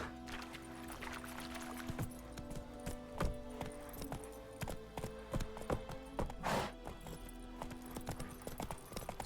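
A horse's hooves clip-clopping at a brisk pace in The Witcher 3: Wild Hunt, steady rhythmic hoofbeats over a faint musical hum, with a brief louder rustle partway through.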